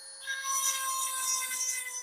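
A hand file sharpening the teeth of a chainsaw chain, a continuous raspy scraping with a high metallic edge and faint back-and-forth swells, close and fairly quiet, no voices.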